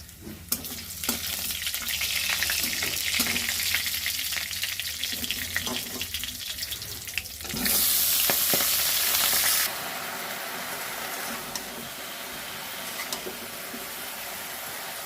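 Malabar spinach sizzles steadily in hot oil tempered with five-spice and green chili, a dense crackling hiss that swells into a louder, brighter burst midway before settling back to a steady fry.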